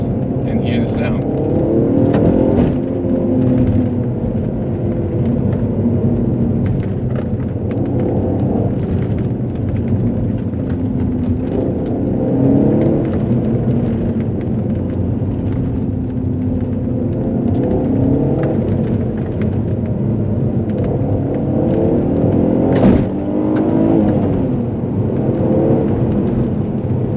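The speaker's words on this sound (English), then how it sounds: "Let's rev it a little bit and hear the sound." An Alfa Romeo 147 GTA with the Busso V6 revs in steady bursts, a loud continuous engine drone rising and falling throughout, with a voice talking over it.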